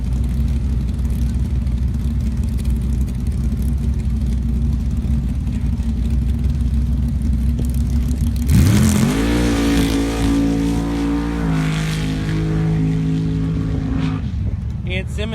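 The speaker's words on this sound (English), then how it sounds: "Joe Simmons with the buy run over on the far side in the going postal Jeep" Top Eliminator drag racing Jeep at a season-opener meet, with a steady engine roar that surges loudly at about 8.5 seconds into a hard revving run, pitch climbing and holding as the vehicle accelerates down the track, with an announcer talking throughout.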